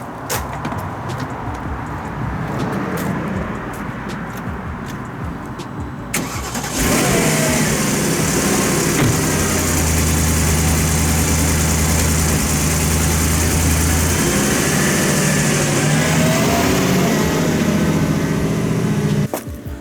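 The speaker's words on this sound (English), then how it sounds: "I'll give you guys a little Porsche cold start." A Porsche engine is cold-started nearby after a few seconds of rustling handling noise, catching abruptly and then settling into a loud, steady, high idle that holds for the rest of the clip.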